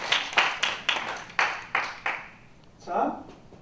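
Scattered claps ring out from a church conference audience for a pastor who wiped the chalkboard: about seven distinct, sharp strikes spaced roughly half a second apart, fairly close, then a brief murmur of voices as they fade.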